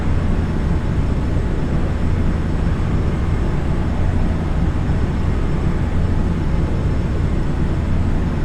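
Airliner climbing after takeoff in Flight Simulator 2020, a loud steady broadband engine roar with a low drone, unbroken and without voices.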